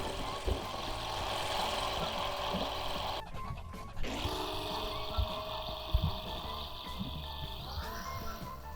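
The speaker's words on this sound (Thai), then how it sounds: "เสียงเสียงเรือดังมากเลยนะ" A boat engine on Lake Ozark drones steadily at moderate distance, with a short drop around mid-clip before the hum resumes and rises slightly in pitch, and a few faint knocks scattered over it.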